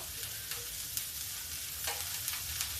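Onion fries lightly in a pan, a continuous soft sizzle with a few stirring scrapes of a spoon against the pan, fairly quiet and unbroken by talk.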